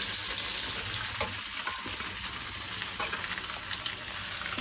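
Food sizzles steadily as it is sautéed in a pan for a Tamil home-cooked meal alongside fish fry, with a continuous bright frying hiss and occasional stirring clicks, no talking.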